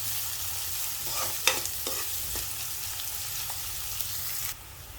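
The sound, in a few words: sautéing crumbled leftover chapati in a pan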